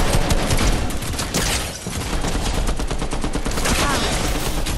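Rapid, continuous gunfire in Fortnite, a steady rattle of shots throughout with a player's voice chatting over the fight.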